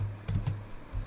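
Keystrokes on a computer keyboard as a networking command is typed on a Windows 11 PC, a few soft, quick clicks in a short, quiet burst.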